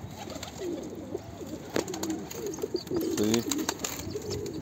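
Pigeon calls, soft cooing and a few chirps, heard close by in a loft where a thin, underfed bird is being coaxed, with a person speaking briefly over the background noise.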